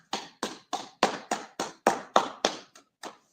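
A church congregation at a Sabbath service claps hands in a steady rhythm, about ten crisp, evenly spaced claps with no talking, ending in a few scattered slower ones.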